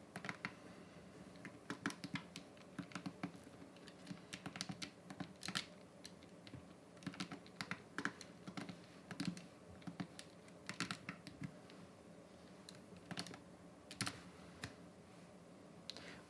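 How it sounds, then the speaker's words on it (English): Computer keyboard typing while entering a maths equation: quiet, rapid irregular clicks and key taps run throughout, close and soft, with no talking. "So I'll just get this equation and type it in."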